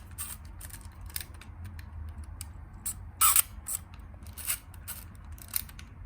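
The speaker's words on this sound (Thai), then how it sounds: "ชัตเตอร์ก็ทำงานนะครับผมเปิดปิดปกติ แบบนี้นะ" A series of sharp mechanical clicks, with one louder snap midway, from a Pentax PC35 AF film camera shutter firing and winding, close and quiet otherwise.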